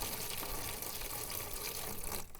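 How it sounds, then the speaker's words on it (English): Water is poured steadily into seedling pots of wet potting soil, a continuous close gushing splash with no talking, cutting off abruptly near the end. "pour some water in here"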